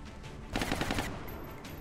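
Rifle fire in the XCOM: Long War video game: a short, dense rattling burst of rapid shots, loud and close, standing alone with no talk over it.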